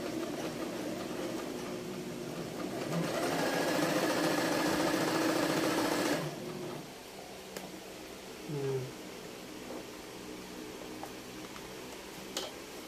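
Norio Yamazaki A6-002N sewing machine stitching with a steady whirring hum for several seconds, then stopping and leaving faint clicks and handling noises.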